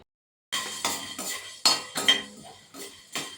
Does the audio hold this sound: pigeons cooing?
no